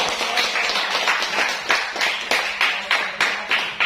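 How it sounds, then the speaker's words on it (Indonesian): A small group claps in an uneven, rhythmic patter for a few seconds after a student presentation in a classroom, fairly close, with individual hand claps distinct. "Tepuk tangan"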